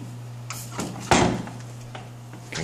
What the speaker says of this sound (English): These doors will actually close as well